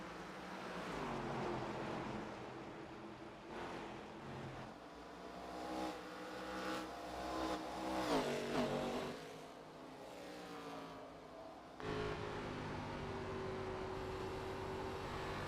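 An ARCA race car at Iowa heard from the in-car camera, a loud continuous engine drone that rises and falls in pitch through shifts and throttle changes, with a sharp dip and surge near the end.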